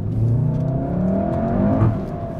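A 2016 VW Golf GTI Clubsport S engine blips and revs as the driver heel-and-toes on downshifts, loud and close from inside the car, with rising and falling engine tones over a steady drivetrain whir.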